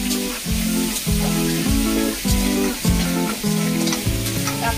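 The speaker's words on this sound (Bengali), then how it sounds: "কাঁকড়া ভাজা হয়ে গেছে। এবার আমি কাঁকড়াগুলোকে তুলে নেব।" Crabs frying in mustard oil in a pan, a steady close sizzle with rhythmic bursts of scraping or stirring, loud and continuous with no talk.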